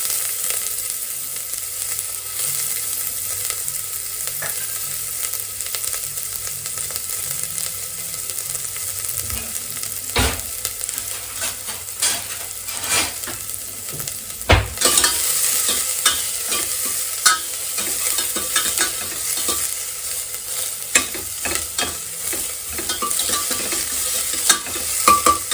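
Onion frying in a little oil inside a pressure cooker, a steady bright sizzle throughout with stirring clatters and scrapes growing busier toward the end, no voices.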